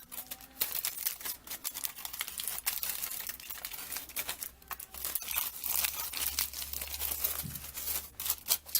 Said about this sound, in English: we're just kind of squishing this foil around the cardboard cutout shape